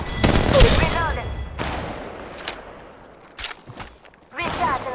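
Automatic weapon fire in Apex Legends Mobile, with loud crackling bursts at the start and end and sharp isolated shots between, mixed with in-game character voice callouts.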